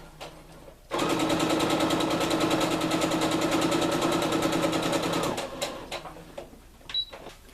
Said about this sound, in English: And we'll just start sewing.